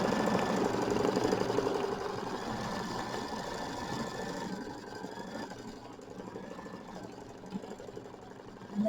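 A sewing machine hums and clatters steadily as it tacks quilt fabric down in a continuous mechanical run, then eases a little softer toward the end.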